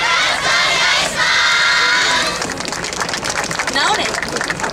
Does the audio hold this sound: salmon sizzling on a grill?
no